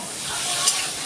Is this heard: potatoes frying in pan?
yes